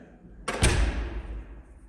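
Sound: door closing in a dark corridor

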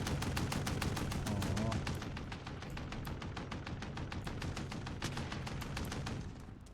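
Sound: gunfire in the video game Call of Duty: Warzone

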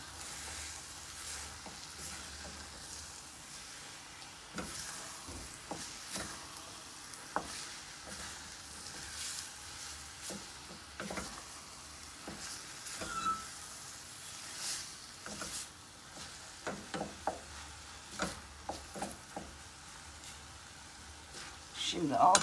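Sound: onions and red pepper flakes frying in pan

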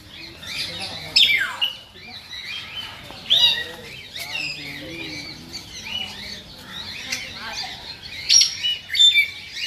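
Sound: myna bird calling at Lucknow Zoo

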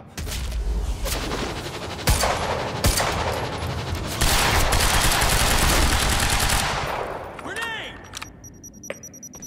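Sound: gunfire in video game Quantum Break

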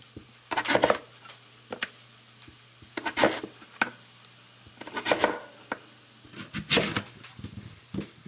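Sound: chopping potatoes into small pieces

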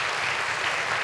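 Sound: audience applause in church

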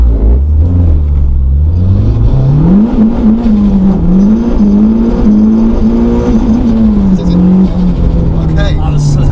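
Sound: turbo Renault Clio 172 Cup accelerating 0 to 60

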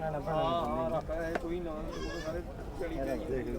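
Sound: goat bleating

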